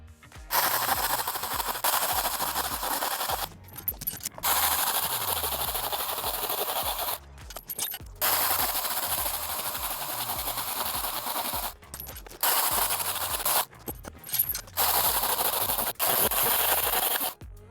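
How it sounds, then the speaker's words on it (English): A STIHL GTA 26 battery garden pruner cuts timber discs again and again, giving loud buzzing bursts of a few seconds each, split by short pauses, with no talk. "Let's see how many discs we can cut until the battery runs out."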